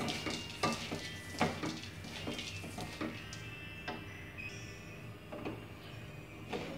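Roasted sesame and melon seeds are mixed into a coconut filling in a pan for mooncakes, with quiet repeated scraping and soft taps of a utensil against the pan, steady and close, with no voice.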